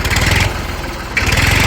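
A tractor engine runs close by with a steady chugging throb, briefly dropping to a lower, quieter idle in the middle before surging back to full running.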